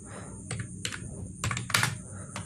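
Fingers type on a computer keyboard in short bursts of close, crisp key clicks with small pauses between groups, no voice over them.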